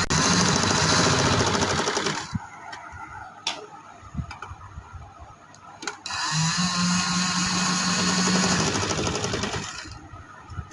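A sewing machine stitching along the frill edge of a summer frock, a steady whirring run that pauses for a few seconds with scattered clicks, then starts again and runs steadily, close and fairly loud.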